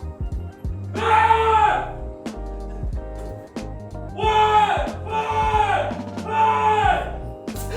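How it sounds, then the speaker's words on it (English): A person screams loudly in long, wavering bursts with pauses between them, close and strained, the voice rising and falling in pitch. "actually start screaming now."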